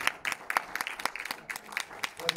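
Scattered applause from a cinema audience after a film screening, a series of sharp separate claps with uneven rhythm, moderately close and thinning out rather than building into a full roar.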